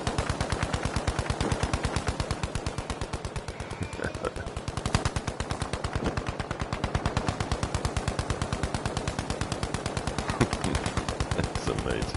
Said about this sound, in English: It's got that ever shooting gun.